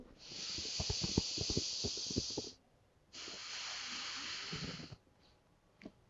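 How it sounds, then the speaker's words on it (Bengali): A person breathes forcefully in and out through the nose in two long, loud, hissing blasts, the second a little shorter, followed by a brief faint sniff, in a quiet room. "যত জোরে নেওয়া যায় এবং যত জোরে ছাড়া যায় নাক দিয়েই দশ বার"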